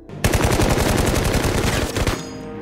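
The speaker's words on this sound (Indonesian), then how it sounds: "Akan tetapi wanita itu malah keduluan diberondong tembakan oleh Alex dan para anak buahnya." A loud, sustained burst of rapid automatic machine gun fire in an action film, dense rattling shots for about two seconds before cutting off.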